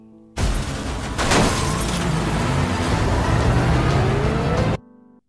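A taxi revving hard as it rams a police car: a loud, sustained engine roar with a sharp crunching impact early on, holding steady for several seconds and then cutting off abruptly, with no voices.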